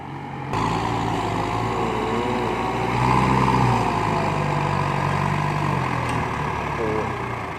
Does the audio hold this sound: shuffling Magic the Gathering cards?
no